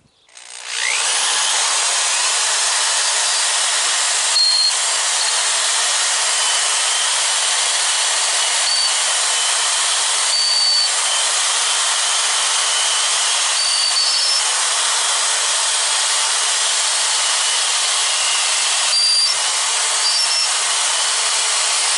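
An electric drill spins steadily with a clamped steel knife, a loud continuous high whirring rush that holds for about twenty seconds, with faint brief squeaks or whistles now and then and no talking.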